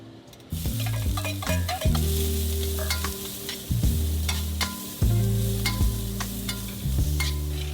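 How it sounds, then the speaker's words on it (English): Leeks sizzle in oil in a wok on medium-high heat while a utensil scrapes and stirs, with periodic clanks of metal over a constant frying hiss. "In a wok on medium-high heat, add oil and stir-fry the leeks until fragrant."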